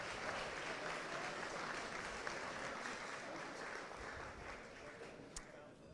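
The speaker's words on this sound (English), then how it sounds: "let's give a big round of applause to all of our winners." Diners at an awards night honouring top immigrants in the Maritimes applaud the winners, a steady, fairly faint wash of clapping with voices mixed in.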